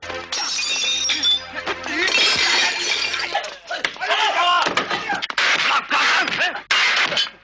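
Glass shatters and breaks in a film stunt, several crashing bursts with clinking shards over a busy, loud mix, with voices and music-like tones running underneath.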